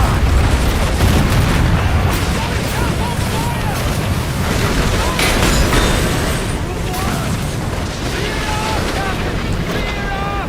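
Ship cannons fire in Assassin's Creed Black Flag, heavy booms rolling over constant roaring wind and ocean surf during a naval battle, with a voice shouting over the loud, dense mix.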